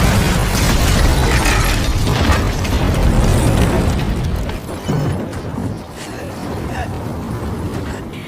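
An explosion from the action film The Equalizer 2, with a man hurled back and wounded in the stomach, rolls out as a loud, sustained boom and roar, fading slightly midway then holding as a dense rumble with crackling debris.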